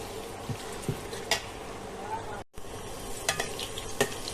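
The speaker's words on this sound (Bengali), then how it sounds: "হালকা একটু লবণ দিলাম পেঁয়াজটা ভেজে নেওয়ার জন্য।" Onions with a little salt fry quietly in oil, a low sizzle broken by a few sharp clinks and scrapes of a spoon stirring in the pan.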